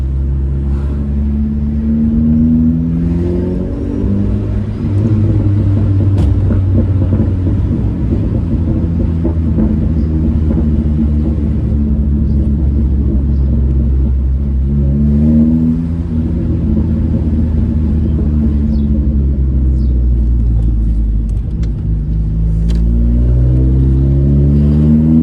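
A first-generation Honda Prelude engine revs and roars steadily while driving, loud and close, with rising and falling pitch sweeps as it accelerates and shifts over about twenty-five seconds, no voices present.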